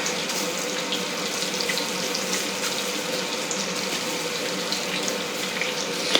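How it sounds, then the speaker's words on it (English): Bacon sizzling in a skillet beside the stove: a steady, hissing crackle that runs unbroken at moderate loudness throughout, with no talking. "you can hear the bacon cooking in the other skillet beside here"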